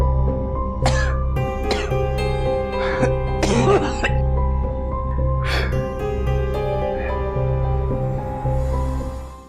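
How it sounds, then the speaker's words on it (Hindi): Repeated harsh coughs and throat clearing, several bursts spaced a second or so apart, heard close over a low steady background hum. "बहुत ज्यादा खांसी हो रही है"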